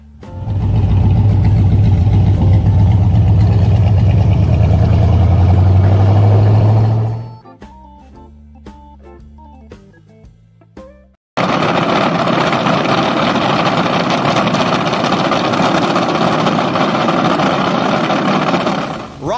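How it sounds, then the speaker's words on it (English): A Ross Racing Engines hot rod power plant from Niles, Ohio, built for Tyler Hilton, revs loudly with a climbing pitch. It drops away into a brief quieter stretch, then returns as a sustained, close, roaring engine note. "Ross Racing Engines of Niles, Ohio, built this bad power plant for Tyler Hilton"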